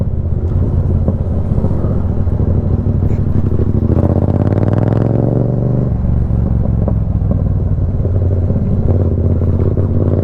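A Yamaha MT-07 motorcycle with a loud aftermarket exhaust rumbles steadily close by, then rises in a brief rev that peaks and drops back to a throaty idle.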